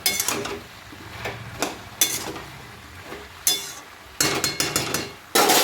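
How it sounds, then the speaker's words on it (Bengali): A pot lid is lifted and vegetables cooking in their own released water are stirred, giving a series of close metallic clanks and scraping bursts with quieter simmering gaps between. "একবার ঢাকনাটা খুলে আমি একটু নাড়াচাড়া করে দিই।"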